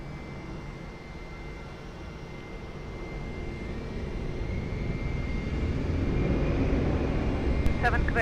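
Iberia airliner taking off from runway 20 at Lisbon Airport: a broad jet roar that swells steadily over several seconds, heard from a distance and continuous throughout.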